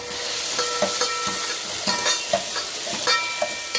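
Onions and okra sauté in a pan for radish sambar, with a close, steady sizzle and a quick rhythm of spoon scrapes and taps as the vegetables are stirred, without talk.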